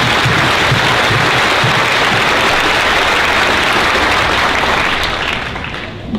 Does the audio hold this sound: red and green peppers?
no